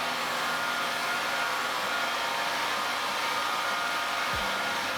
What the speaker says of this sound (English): We'll turn the vacuum on and see if we're getting some suction strength.